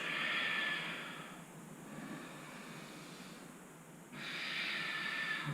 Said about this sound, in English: Deep diaphragmatic breaths here.